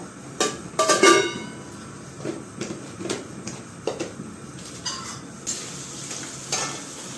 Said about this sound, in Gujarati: મીઠા લીમડાના પાન પણ નાખી દઈશું અને લાલ મરચાં નાખશું આપણે એમાં